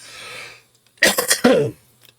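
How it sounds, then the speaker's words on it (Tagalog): A person coughs twice in quick succession, close and fairly loud, after a brief stretch of low background noise. "Excuse me kasi meron pa tayong ubo kaunti."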